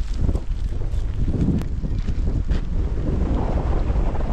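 Strong wind at the Geysir geothermal area in Iceland buffets the microphone in a loud, continuous, low rumbling roar with gusty surges, no other sound standing out.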